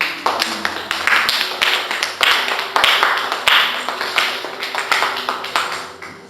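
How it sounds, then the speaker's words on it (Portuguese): A church congregation applauding during a worship service, with loud, close clapping in uneven bursts and crisp individual claps standing out over several seconds. "Dá um aplauso ao Senhor Jesus."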